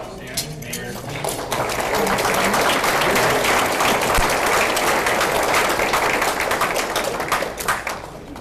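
Audience at a city State of the City address breaking into applause to welcome the mayor, dense clapping swelling after a quiet start and holding loud to the end, with voices mixed in.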